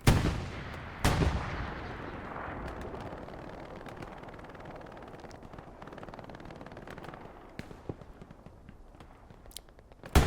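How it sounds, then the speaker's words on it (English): An anti-tank gun firing in the World War II shooter Hell Let Loose on Elsenborn Ridge: a heavy near blast opens, a second booming shot follows, then distant scattered gunfire and rumble carry on, with another burst at the end. "Bullseye over here, manning the AT gun"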